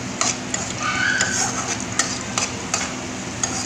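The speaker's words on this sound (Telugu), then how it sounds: "ఉల్లిపాయలైన పచ్చిమిర్చి కాస్త గోల్డెన్ బ్రౌన్ వచ్చే వరకు వేగనివ్వాలి" Onions and green chillies fry in oil in a pan with a steady sizzle while a spoon stirs them, giving regular scraping clicks against the metal. It is close and clear, with no talk.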